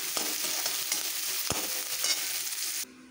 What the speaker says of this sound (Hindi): अब इसी में हम प्याज डालेंगे और प्याज को भूनेंगे